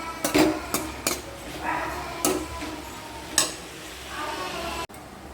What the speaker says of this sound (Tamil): செங்கீரை வறுத்துட்ருக்குறேன்